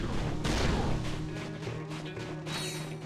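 Blitz Cannon blasts in Ratchet and Clank 2 boom in rapid succession, heavy crunching explosions and debris crashes stacked close together with game effects around them.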